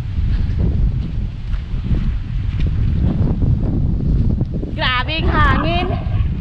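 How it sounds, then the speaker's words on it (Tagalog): Strong wind roars steadily across the microphone on a sea island shore, a dense low rumble throughout, with a voice speaking briefly near the end. "Grabing hangin."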